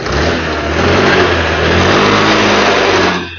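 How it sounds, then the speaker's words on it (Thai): A Honda Click 110, an early fuel-injected scooter in original condition, is revved up and held at a loud, close, buzzing high pitch for a few seconds before dropping back toward idle. "เดี๋ยวเบิ้ลเครื่องให้ฟังนะครับ"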